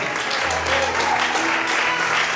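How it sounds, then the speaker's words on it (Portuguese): A church congregation applauding to glorify the Lord, a loud, continuous burst of many people clapping, with a faint voice or tone underneath. "Quantos podem aplaudir e glorificar o Senhor?"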